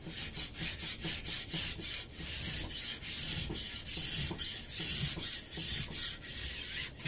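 A file is drawn along a ski edge to set a bevel, giving about a dozen rhythmic, close rasping strokes in an even back-and-forth pattern with no voices.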